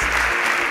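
Studio audience applauding finalists on a television quiz show, a brief dense wash of clapping with no voices.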